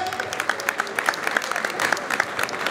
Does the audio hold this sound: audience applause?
yes